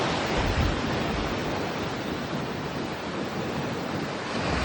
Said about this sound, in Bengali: আমার পায়ের সমুদ্রে ঢেউ এসে ধাক্কা দিচ্ছে